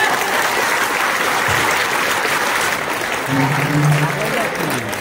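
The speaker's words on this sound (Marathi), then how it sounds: "आपण का वाजवल्या टाळ्या माहित आहे?" Loud, sustained clapping from an audience at a fort-building competition prize-giving ceremony, steady and dense for the whole stretch, with children's voices rising briefly near the end.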